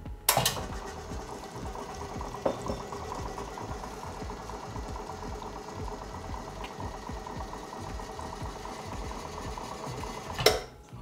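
Slayer espresso machine purging water from the group head for about ten seconds, a steady hissing, gurgling flow with a low pump hum, bracketed by sharp clicks at start and finish.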